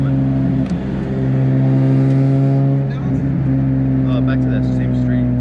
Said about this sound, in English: I'm gonna brake boost on this next one.